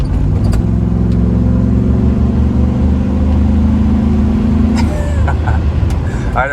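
A 2003 Chevy SSR pickup roadster accelerates at full throttle, its engine roaring loud and close in a steady, rising drone that cuts off near the end and gives way to rushing road and wind noise.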